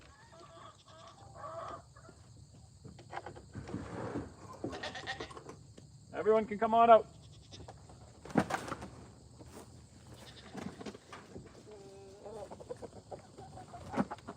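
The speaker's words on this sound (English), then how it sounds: "I always enjoy letting you guys see the chickens come running out of their coop" Hens clucking and squawking close by in scattered bursts as they come running out of their coop on a homestead, with a brief spoken remark mixed in.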